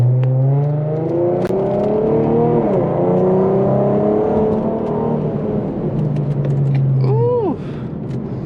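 An all-wheel-drive Infiniti G37 accelerates hard, its engine note climbing loudly through the revs, dropping at a gear shift, then rising again, heard close from inside the car.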